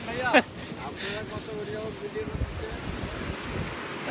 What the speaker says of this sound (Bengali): এই গর্জিয়া সাগরের গর্জন ইতিমধ্যে আপনারা শুনতে পাচ্ছেন আশা করছি